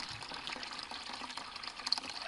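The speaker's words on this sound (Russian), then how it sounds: "Я вот наливаю воды." Water is poured out on a farm in the morning to fill a container for watering livestock, a faint, splashy, continuous trickle with small bubbling bursts and no talking.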